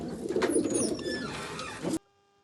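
Pigeons kept for breeding coo in low, rolling murmurs over a busy background hiss with a few faint higher chirps, and the sound cuts off abruptly near the end.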